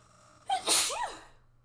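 A single sharp sneeze bursts out close and loud, a quick intake followed by an explosive burst, alone against a quiet room.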